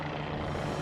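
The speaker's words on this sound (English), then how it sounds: "Alright, jump out of this helicopter and go." Steady, loud helicopter rotor and engine drone from the snowboarding video game Stoked: Big Air Edition, a continuous low throbbing hum with no pauses and no talk over it.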